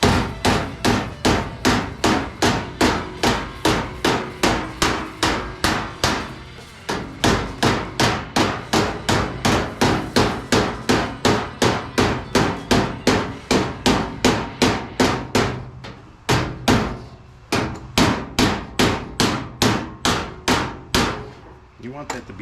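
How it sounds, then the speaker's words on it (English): A door skin hammer steadily strikes sheet metal to fold an auto door skin over its frame, dozens of loud, close, evenly spaced metallic taps in quick rhythm, with brief pauses between runs and no talking. "you might have to switch to the angled side of your door skin hammer"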